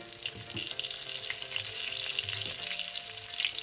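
Diced potatoes fry in hot oil with a steady, close sizzle and a few light stirring clinks over the top, and no voices.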